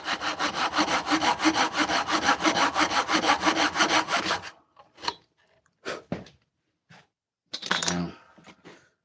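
A hand saw cuts through wood for a box, rapid rhythmic back-and-forth strokes loud and close for about four seconds, then stopping, followed by a few light clinks and taps.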